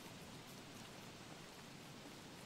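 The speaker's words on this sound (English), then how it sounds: "It is raining up a storm" Steady rain in the video game Don't Starve, a dense, even hiss of falling drops that continues without pause, fairly quiet and alone.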